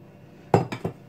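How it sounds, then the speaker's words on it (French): A metal whisk beating egg yolks in a bowl, heard as three quick, fairly loud clinks and scrapes against the bowl over a quiet background. "Je vais mélanger au fouet."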